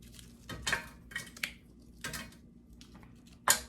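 Fries dropped into a hot air fryer tray make a few scattered clattering knocks and rustles, each short and close, separated by quiet gaps, with one sharper clack near the end.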